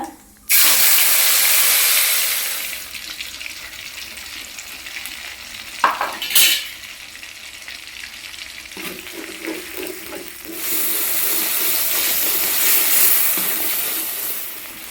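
Ground spice paste for a cauliflower curry hits hot oil and sizzles loudly and continuously, the frying hiss dipping briefly as it is stirred, then surging again, close up with no talking.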